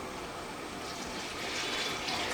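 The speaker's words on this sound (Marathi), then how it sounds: "आता पाणी टाकलं जाईल" Water pours steadily into roasted whole masoor dal in a pan, a continuous close hissing splash that swells slightly toward the end.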